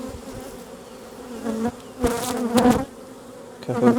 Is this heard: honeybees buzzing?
yes